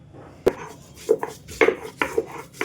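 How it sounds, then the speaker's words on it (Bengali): Ginger is ground by hand into a dry paste without water, making a run of about six sharp, close knocks and scrapes at an uneven, steady pace. "আদাটা পেস্ট করে নেবো বন্ধুরা এটা শুকনো শুকনো করে পেস্টটা বানাতে হবে"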